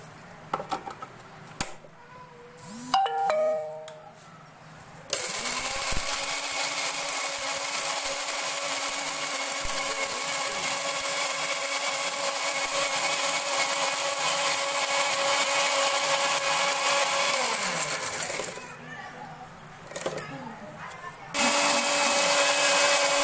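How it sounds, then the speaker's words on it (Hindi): An electric grinder grinds dried tomatoes into powder, a loud steady high whir running for about thirteen seconds and then starting again near the end, with quieter handling sounds before it. "आपने इसको 3-4 दफ़ा चलाना है और फिर बंद करना है, चलाना है फिर बंद करना है, ताकि अच्छी तरह से ग्राइंड हो जाए"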